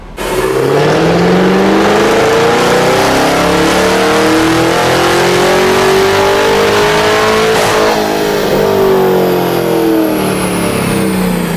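A supercharged car engine with a Corsa axle-back exhaust revs loudly and steadily, rising and sustaining in a deep, throaty roar, then easing off slightly near the end, close to the listener.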